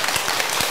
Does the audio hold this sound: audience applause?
yes